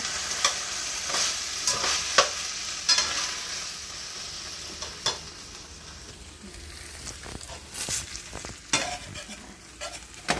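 Canned fish stir-fried with chili in a pan gives a low, steady sizzle broken by repeated sharp scraping clicks of a spatula stirring, irregular and close, with no talk.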